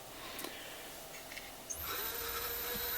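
The electric motor of a Rivett 608 traverse milling attachment with potentiometer speed control spins up to about 1500 RPM, a faint room hush giving way to a thin, steady, fairly quiet high whine.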